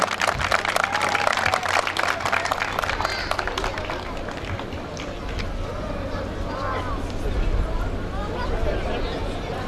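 Audience applause as the mayor comes on stage at a youth festival: dense, steady clapping from a crowd that carries loudly through the whole stretch, with a murmur of voices underneath.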